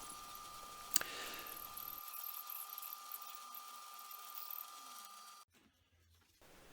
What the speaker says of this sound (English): So all these have to be drilled either singly or drilled and then turned around and drilled a little bit bigger